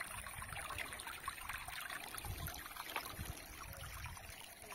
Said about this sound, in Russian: Еле-еле течет струечка тоненькая.